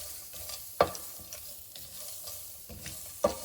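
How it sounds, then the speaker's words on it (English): Chana dal sizzling gently in a pan over a low flame with a soft steady crackle, broken by a couple of louder scrapes as it is stirred. "fry this for another 5 minutes. Make sure it is low flame"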